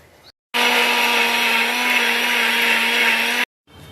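A blender grinds tomato, onion and green chili into a puree, a loud, steady whirring drone lasting about three seconds that starts and stops abruptly, with nothing else over it.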